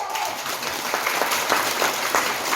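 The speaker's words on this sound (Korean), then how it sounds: "힘주실 하나님께 힘내시라고 박수 좀 쳐요." Clapping from a church congregation at a gospel and ventriloquism service rises as a dense, moderately loud patter, with a few sharper rhythmic claps standing out.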